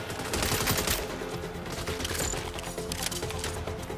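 Gunfire in the Saints Row video game comes as a dense fusillade of rapid shots with bursts that overlap throughout, loud and continuous and mixed with the game's other noise.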